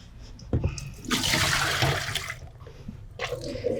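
Water poured out of a catheter bag into a toilet or drain, a loud rushing gush lasting a couple of seconds, followed by softer trickling and splashing nearby.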